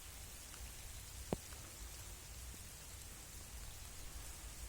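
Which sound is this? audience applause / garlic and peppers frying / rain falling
rain falling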